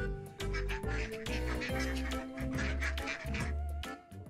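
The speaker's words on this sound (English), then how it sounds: "Mama duck said, quack, quack, quack." Repeated duck quacks over a steady musical backing, bright and fairly loud, several calls in quick succession.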